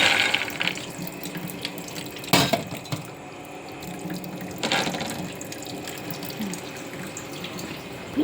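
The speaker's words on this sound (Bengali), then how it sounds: "ফিল্টার থেকে জল দিয়ে দেব" Filtered water running from a water filter into a cooking pot, a steady close trickle and splash with a couple of louder clunks, no voices.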